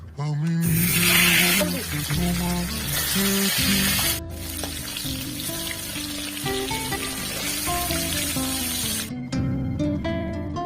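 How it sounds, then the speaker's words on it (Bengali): Rohu fish pieces dropped into hot oil for a Bengali mustard curry, giving a loud, steady broadband sizzle and spatter that runs nearly throughout, with a sharp break partway and quieter crackling at the end over background music. "তেল গরম হয়ে গেছে আমি মাছগুলোকে ছেড়ে দেবো"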